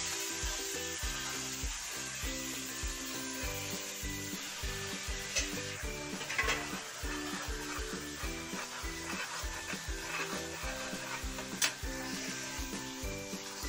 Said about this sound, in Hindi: इसको थोड़ी देर हम भून लेंगे चला के